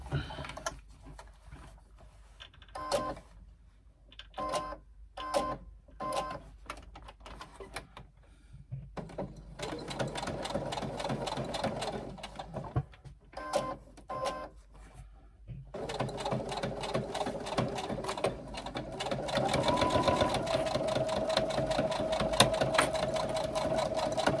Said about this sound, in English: we're going to sew that with a 3/8 inch seam